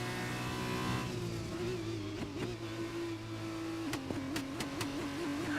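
Race car engine bogging down in too high a gear in F1 2020, at the Bahrain GP: a steady, strained drone that wavers and lurches in pitch toward the end, close and continuous.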